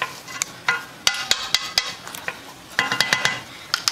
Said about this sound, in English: You're just going to stir that around and let that begin to cook.